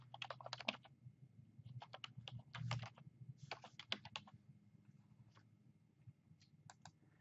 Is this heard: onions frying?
no